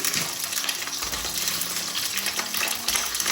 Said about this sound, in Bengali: আগে আমি জুকিনিটা একটু ভেজে নিচ্ছি